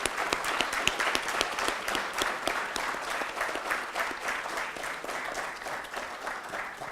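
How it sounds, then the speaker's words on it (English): A conference hall audience at an information management conclave on a college campus gives a sustained round of applause, many hands clapping in a dense, even patter that slowly tapers, with no voices over it. "Give yourselves a big round of applause, guys."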